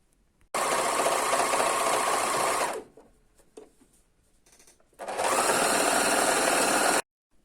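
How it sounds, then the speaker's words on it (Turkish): A sewing machine stitches the edges of tracksuit trousers in two long, loud, steady runs of fast whirring with a quiet pause of small handling noises between them. "A kısmı iki kenarları dikiyorum."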